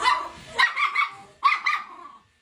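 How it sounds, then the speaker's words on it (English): A 120-pound American XL Bully being groomed lets out two loud bursts of harsh barking and yelping, close by, then falls silent. "The owner said she would growl and not bite."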